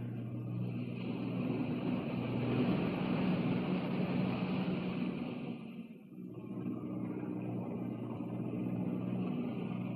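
Boat engines drone in a steady, loud, low rumble with a broad hiss of wind and water over it, dipping briefly midway before resuming, with no talk.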